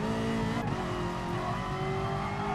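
Ferrari F40 in GT Sport at Bathurst, engine droning steadily under braking with a brief blip of a downshift early on, then a sustained tone with faint tyre scrub, close and continuous.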